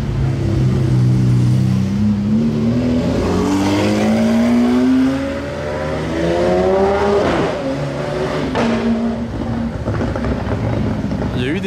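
White Ferrari 812 GTS roaring by with a loud rising exhaust note that climbs through a gear change and then keeps pulling, close and dominant over faint background talk.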